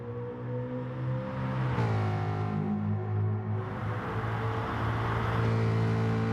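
Ford Mustang Group 3 N500 race car in Gran Turismo Sport, a steady engine drone that dips in pitch as it downshifts and then climbs again under acceleration, close and continuous with no talking.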